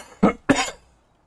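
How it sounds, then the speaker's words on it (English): Two sharp coughs in quick succession from a person who is ill, close and loud, followed by silence. "coughing fits are so annoying"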